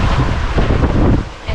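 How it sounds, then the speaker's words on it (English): Steady wind roaring across the microphone at sea, loud and buffeting, with a faint wash of water beneath it. "right now the winds have slowed down"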